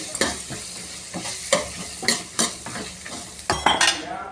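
Okra and ginger garlic paste sizzle in hot oil in a home kitchen while a metal spoon scrapes and clanks against the pan in repeated stirring strokes, close and fairly loud.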